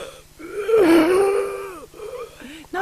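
A man imitates deep, raspy wheezing breathing like whooping cough, half human and half animal, in one long drawn-out breath with a moaning tone, followed by a couple of softer breathy sounds, close and fairly loud.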